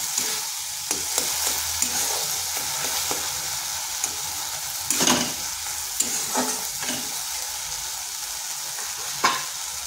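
Boiled apple being stirred and mashed with a ladle in a pot, a low sizzling bubble under irregular scraping strokes and a few louder knocks, close and with no voices.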